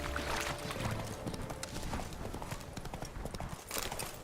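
A horse named Roach clip-clops along in a video game, steady hoof beats carrying through the whole stretch over a busy ambient background, with a faint snort or whinny near the start.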